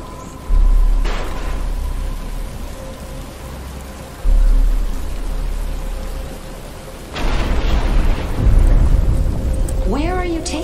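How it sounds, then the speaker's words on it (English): Rain falls in a Batman: Arkham Asylum cutscene, a steady broadband hiss that swells in bursts and grows heavier toward the end, where a voice briefly speaks over it. "But it's starting to rain."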